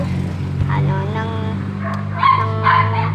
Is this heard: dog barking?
yes